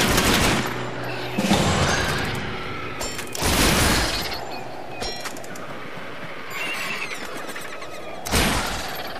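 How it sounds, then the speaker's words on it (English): Gunshots fire at cans in The Gunstringer on Xbox 360, several loud separate cracks with pauses between them over a steady game background. "Taking the bead at the cans, Gunstringer tested his aim after the nuisances of rising from the dead."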